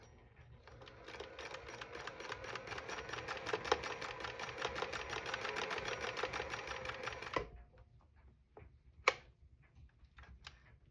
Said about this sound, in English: Let's see how it sews.